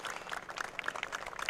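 A crowd at a high school boys soccer match between Bryan and Bluffton gives scattered, steady applause as an injured player leaves the field. The clapping sounds faint and distant throughout.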